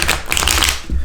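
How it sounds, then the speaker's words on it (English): A deck of tarot cards gets a big shuffle, a dense rapid flutter of card edges clicking and slapping together, loud and close throughout with no talk. "We're gonna go ahead and start with a big shuffle."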